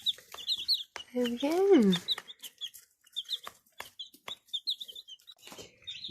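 Baby chicks in a brooder peep repeatedly in high, rapid chirps nearby. A person speaks briefly partway through, and scattered handling noises sound alongside the chicks.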